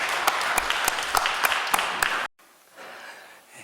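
Church congregation applause during a worship service, a crowd clapping with several sharper individual claps standing out, which cuts off abruptly to near silence and then a faint murmur.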